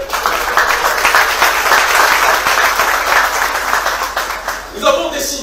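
A large crowd at a political rally in Haiti claps loudly and continuously, a thick, roaring wall of applause that begins to thin out just before the end.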